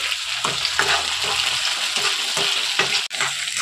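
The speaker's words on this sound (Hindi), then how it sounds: "अब हम इसमें टमाटर डालेंगे, बारीक कटा हुआ।" Finely chopped tomatoes sizzle in a hot frying pan while being stirred for poori sagu, a steady hiss with scraping strokes and a brief pause near the end, no speech.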